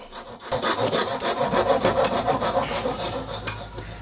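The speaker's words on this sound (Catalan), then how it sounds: "Li passarem una miqueta de la llima per polir el tall" A metal file rasps back and forth across a saw cut in wood, smoothing it in a steady run of quick strokes, close and fairly loud, with no talking.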